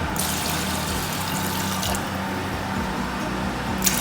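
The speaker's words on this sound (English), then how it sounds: "You add some clean water," Clean water pours into a pot of rice being prepared for rice purée, a steady close splashing rush of liquid that runs throughout, with no talk.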